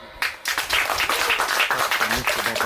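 Brisk applause from a group at a Christian school gathering, a dense, steady round of claps that starts abruptly after a brief pause, with a faint voice beneath.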